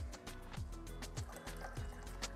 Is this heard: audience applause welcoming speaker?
no